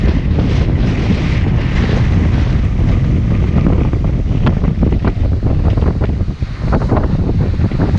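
Choppy sea waves slap against a Hallberg-Rassy 54 sailboat under way near Mustique, with steady loud wind buffeting the microphone throughout and no talking.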